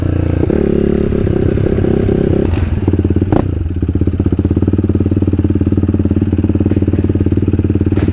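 Motocross motorcycles race on a track nearby, a loud, steady buzzing engine drone with rapid pulsing revs and a few thumps and clatters, no speech.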